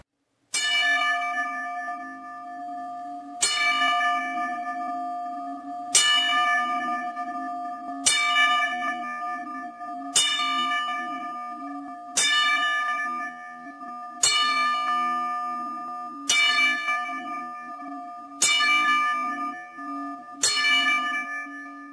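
Ten strikes of a church bell toll one after another in a steady, slow rhythm, each clang ringing loud and clear before decaying into the next, with no talking over them.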